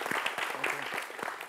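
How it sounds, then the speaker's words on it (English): An audience at a debate competition final applauds a sponsor. The clapping is brief and moderate, with individual claps audible in a room. "And you guys, give Gary a round of applause."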